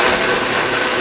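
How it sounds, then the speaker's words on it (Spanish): A blender whirring steadily as it blends an apple milkshake, a loud, even motor hum that runs without a break. "Y lo vamos a licuar."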